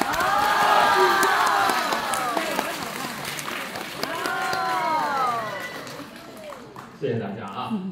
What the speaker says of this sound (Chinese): 谢谢大家伙儿这个热情的掌声